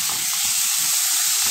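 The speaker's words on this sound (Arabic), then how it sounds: "ننزل بسم الله الرحمن الرحيم بالبصل والفلفل والثوم والطماطم، نبدا نقلب" Onions, peppers, garlic and tomatoes sizzle steadily in a hot pan as they are stirred, a close, continuous high frying hiss with faint clinks and stirring knocks underneath.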